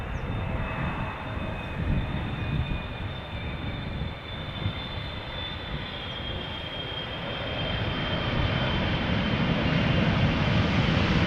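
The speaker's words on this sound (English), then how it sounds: "there is 777 arriving right behind me" A KLM Boeing 777-300 arrives from Sao Paulo to land at Amsterdam Schiphol Airport: a loud, steady jet-engine roar that swells slightly toward the end, heard outdoors with no voices.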